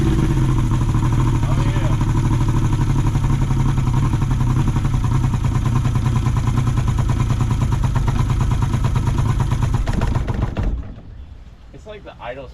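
A small motor on a homemade DIY boat runs loud and steady at a rough idle for about ten seconds, then cuts out abruptly, leaving quiet with brief talk.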